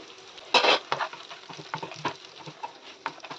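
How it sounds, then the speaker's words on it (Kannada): Oil-fried dry fruits are stirred into moong dal halwa in a pan, making a loud scraping swipe followed by soft, irregular spoon scrapes and light sizzling, close up. "ಎಣ್ಣೆ ಫ್ರೈ ಮಾಡಿ ಇಟ್ಕೊಂಡಿರೋಂಥ ಡ್ರೈ ಫ್ರೂಟ್ಸ್ ಕೂಡ ಆ್ಯಡ್ ಮಾಡ್ತಿದ್ದೀನಿ"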